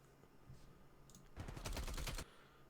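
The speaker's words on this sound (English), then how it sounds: "he's shooting, he's firing, he gets headshot multipliers like crazy." Gunfire in the game Call of Duty Cold War arrives as a short, fairly faint burst of rapid shots that lasts under a second after a quiet stretch.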